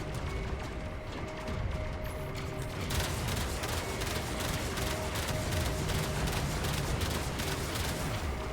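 Artillery fire pounds a giant ship in the video game Warframe during a Railjack mission: a dense, continuous barrage of booms and rapid impacts that grows thicker after the first few seconds and carries on steadily to the end.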